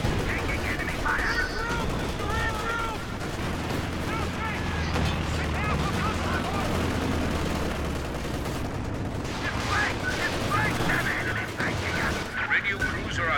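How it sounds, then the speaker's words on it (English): Gunfire in Company of Heroes 2, with dense bursts of machine-gun and rifle shots plus heavier booms, continuous battlefield noise throughout, with voices talking over it. "Taking enemy fire."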